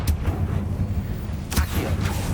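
Confringo blasting spell cast in Hogwarts Legacy, muffled booming bursts with a sharp crack partway through, fairly loud over a rumbling game background.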